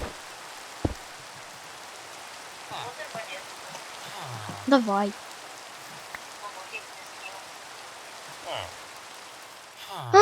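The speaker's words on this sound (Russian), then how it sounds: "Так грёбаный дождь." Steady soft rain patters throughout at low volume in Minecraft 1.16.5 survival, with a few brief voices and small game sounds over it.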